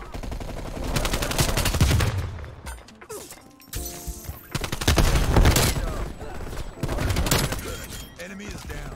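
An AK-74u rips off repeated bursts of automatic fire in Call of Duty Cold War, loud and close, with short gaps between volleys and impact and mechanical clatter mixed in.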